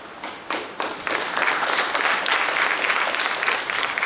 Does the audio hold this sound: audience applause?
yes